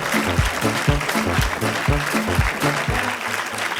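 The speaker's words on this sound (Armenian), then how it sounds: "բարձր ծափահարություններով" A comedy show audience claps steadily and densely throughout, a full room of applause that stays at an even, loud level without pause.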